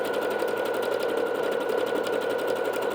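A Bernette B-77 sewing machine stitches out a decorative ribbon stitch with rapid, steady needle chatter at close range, a continuous mechanical rhythm with no talk.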